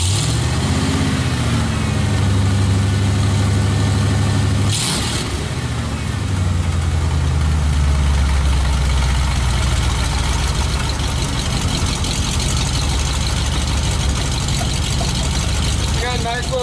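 A truck engine idles steadily through a newly fitted exhaust, a deep low rumble that runs the whole stretch with a brief burst of noise near the middle, while people talk over it.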